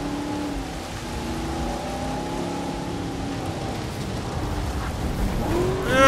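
Rain in the video game Jurassic World Evolution, a steady dense hiss of falling rain with a low engine drone under it, continuous and fairly loud, swelling slightly at the end.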